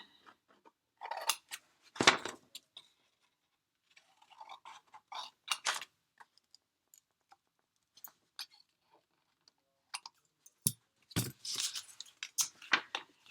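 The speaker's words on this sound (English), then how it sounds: "And then I'll go ahead and trim the corners again." Scissors trimming the corners of a handmade paper gift card envelope, a few short, sparse snips and faint paper rustles spread out with quiet gaps between them.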